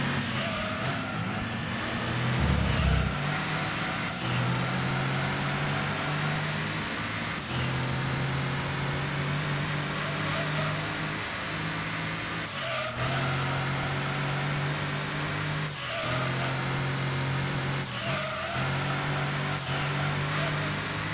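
Engine of an Audi racing car in Gran Turismo 2 on PS1, a German championship race: a loud, continuous high revving drone that climbs through the gears, with sharp drops at each shift about every few seconds.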